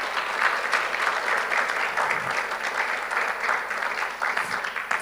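A church congregation gives a long, strong round of applause during a sermon, dense steady clapping from many hands that holds an even level throughout with no voices on top.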